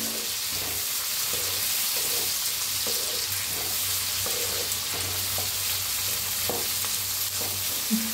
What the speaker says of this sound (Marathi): मिक्स करून छान असं भाजून घेऊया टमाटोला मी